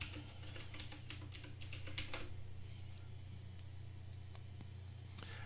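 A username and password are typed on a computer keyboard, a quick close flurry of clicky keystrokes followed by a few slower taps over a steady low hum.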